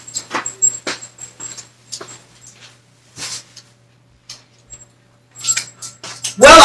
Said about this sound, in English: you ever had a dog when you walk, she's biting your ankles?